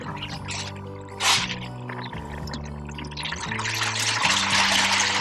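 Water is scooped from a drum through a strainer while gourami eggs are being collected for incubation; splashing and pouring grow louder toward the end beneath steady background music.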